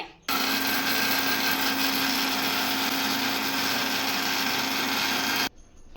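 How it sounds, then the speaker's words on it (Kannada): A mixer grinder jar whirs loud and steady for about five seconds, grinding roasted spices into powder, starting and stopping abruptly with no talk. "ಒಂದು ಮಿಕ್ಸಿ ಜಾರ್ಗೆ ಹಾಕಿ ನೀಟಾಗಿ ರುಬ್ಕೊಳ್ಳೋಣ"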